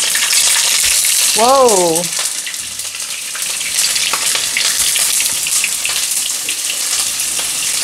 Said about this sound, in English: And while the onions is frying